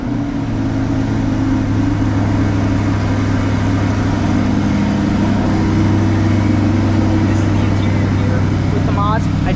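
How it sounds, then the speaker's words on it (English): Chevy Corvette C8 3LT with optional performance exhaust idling after startup, a steady low rumble held at a constant level throughout, close and loud. "I will now give it a startup. So let's see what it sounds like. So this comes with the optional performance exhaust."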